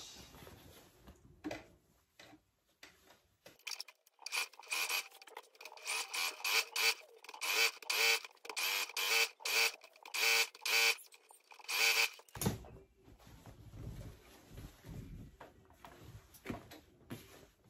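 Industrial sewing machine top stitching a trimmed shirt, a loud rapid whirring run in several bursts lasting about eight seconds, with quieter handling before and after.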